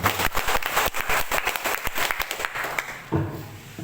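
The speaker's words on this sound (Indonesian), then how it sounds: "Tepuk tangan" Applause breaks out at a tour guide training event in Geopark Ciletuh, a burst of crowd clapping with scattered claps that thins out toward the end.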